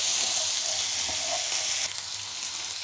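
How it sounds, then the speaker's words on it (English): Meatballs fry in a pan with a loud, continuous hiss and crackle, and a few stirring scrapes come through close up. The sizzle eases slightly near the end, and no voices are heard. "And then we cook this for 2 minutes, just to seal in the flavour in the meatballs"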